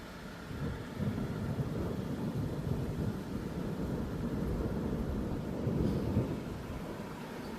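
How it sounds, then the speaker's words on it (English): Distant thunder from an outdoor storm rolls as a steady, low, broad rumble that swells slightly near the end, faint and far off with no voices. "Rumbling off into the distance."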